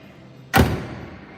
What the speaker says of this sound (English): it just echoes in the deep oomph of the door closing